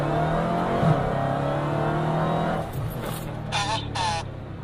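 Dodge Challenger Hellcat on Nitto rear tires at full throttle, a loud, steady engine roar that drops slightly near the end, with brief high tonal chirps and a faint voice toward the close.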